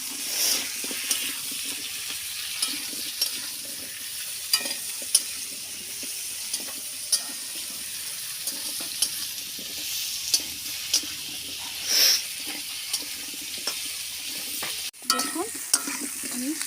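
Potato and pumpkin pieces fry in a pan with a constant soft sizzle while a utensil scrapes and stirs them in occasional clicks and sweeps; moderately quiet and close, with no talking.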